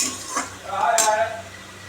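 Spices and nigella seeds sizzle in hot oil in a pan while a utensil stirs and scrapes against the metal, a close crackling hiss with a brief clink partway through.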